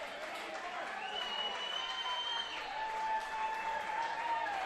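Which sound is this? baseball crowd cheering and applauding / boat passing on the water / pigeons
baseball crowd cheering and applauding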